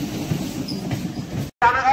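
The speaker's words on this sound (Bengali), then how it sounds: "Train number 31827 up Krishnanagar local চড়ে আমরা দুজনে চললাম।" A Krishnanagar local passenger train runs along, with a low rumbling rattle of carriages and wheels that cuts out briefly near the end, then returns with a sharper squeal.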